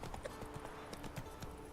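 Hooves of Roach, Geralt's horse, clip-clop steadily across ground in the Witcher 3 video game, a rhythmic mid-distance trot of repeated knocks with faint ambient background.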